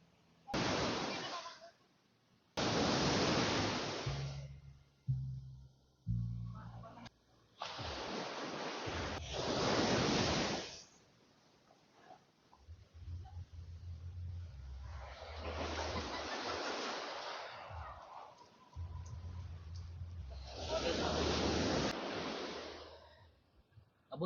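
Ocean waves on a beach at a campsite surge in and wash out in loud, rushing bursts that rise and fall several times, with a low rumble beneath and a few quieter gaps.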